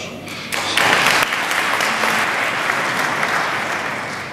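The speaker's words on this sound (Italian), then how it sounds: "per questo fatto già meritate veramente un grande applauso." An audience applauds after a talk by Padre Fiorenzo, a dense, loud burst of clapping that starts sharply and continues steadily throughout.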